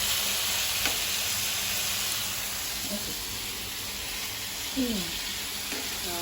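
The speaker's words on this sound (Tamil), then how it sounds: "இப்போ நாங்கள் அதை வந்து பட்டர் போட்டு அதில் வந்து ஃப்ரை பண்ணி எடுக்க போகிறோம்." Butter sizzles steadily in a pan as food fries for a homemade pizza, a close, continuous hiss lasting throughout with a faint voice briefly in the background.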